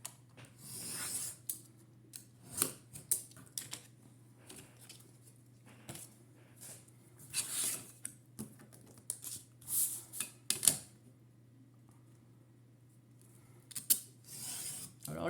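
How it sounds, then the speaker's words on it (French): A utility knife is drawn along a ruler to cut marked panels for a drawer, making a series of quiet, scraping slices in irregular bursts over a low steady hum. "Je prends mon cutter et ma règle et je viens de découper là où j'ai fait mes marquages."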